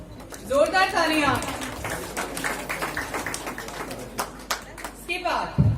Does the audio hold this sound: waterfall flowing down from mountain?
no